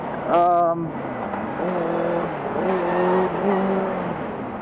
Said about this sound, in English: This bike isn't scary when I'm accelerating